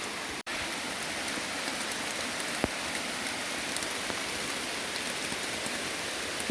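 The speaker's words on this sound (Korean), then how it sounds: "완전 폭우처럼 폭우칩니다." Heavy downpour pounding down during a mountain cliffside foraging trip, a loud, even hiss of dense rain that holds steady throughout, with a few scattered sharper drop hits.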